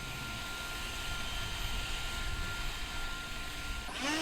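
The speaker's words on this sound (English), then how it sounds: "Then I'll demonstrate the spread nozzle, and this is just going to spread out that airflow a little bit" An Enhulk 930 cordless leaf blower fitted with a spread nozzle runs with a steady, close airy roar, and a brief rising whine comes in near the end.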